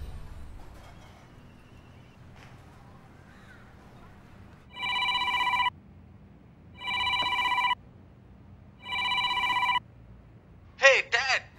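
A telephone rings three times in evenly spaced bursts, loud and close, followed by a short electronic chirp.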